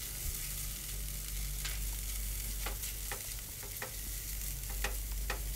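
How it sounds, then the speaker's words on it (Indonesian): Corned beef and carrots sizzle steadily in a frying pan while a utensil stirs through them, scraping with scattered clicks over a constant fry hiss; no voices. "Diaduk-aduk."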